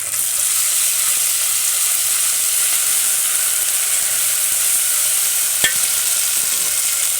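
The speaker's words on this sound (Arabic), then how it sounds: "نحط بقى الصلصه، نقلب بقى كده." A spoon stirs tomato sauce into a hot pot of browning food, with a steady loud sizzle and hiss running throughout and one sharp utensil clink near the end, close up with no voices.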